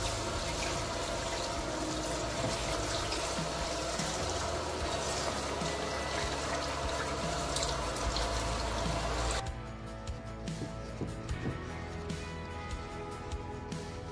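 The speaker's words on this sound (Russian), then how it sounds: "И хорошенько промываем под проточной водой." Tap water runs steadily over a halved raw chicken being rinsed under the faucet, a continuous splashing stream that softens and becomes patchier near the end.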